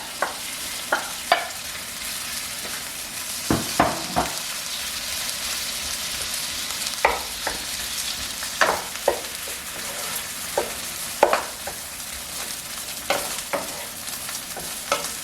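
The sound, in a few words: butter and rice frying in a pan for bacon fried rice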